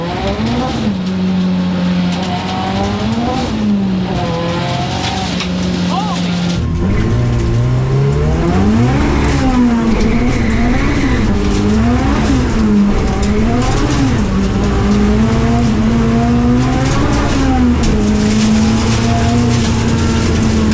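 A loud, tuned 515-horsepower rear-wheel-drive Honda Civic engine revs hard and climbs through the gears, its pitch rising and dipping with each shift, close and continuous for the whole stretch.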